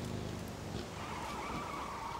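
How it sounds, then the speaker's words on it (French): A motorcycle drives in the video game PUBG, heard as a steady engine drone with a rising tire-skid whine, continuous and close. "Il y a de la moto au-dessus on dirait."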